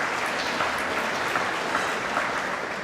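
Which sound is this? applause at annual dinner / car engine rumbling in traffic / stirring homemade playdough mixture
applause at annual dinner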